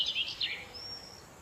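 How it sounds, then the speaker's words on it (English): A small bird gives a few quick, high chirps followed by a thin sustained whistle, faint and somewhat distant over a quiet low background. "Little bird right there."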